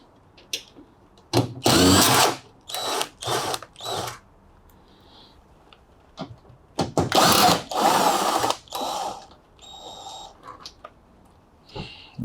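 Cordless power drill unscrewing screws from the top panel of a Bosch washing machine, several short whirring bursts separated by pauses and faint handling clatter, close by with no talking.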